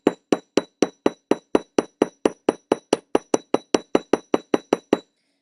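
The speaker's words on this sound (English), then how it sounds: "we're just using the rounded side of our hammer to make some hammer marks" A rounded hammer face strikes metal jewelry about twenty times in a steady, fast rhythm, each blow a sharp, close, ringing tap with a bright metallic edge, alone with no talking.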